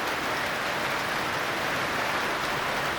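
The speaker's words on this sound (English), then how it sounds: "And the rain's just starting." Steady rain at a campsite in the Wairarapa, beginning while dinner is cooked, making a dense, even hiss throughout with no pauses and no voices.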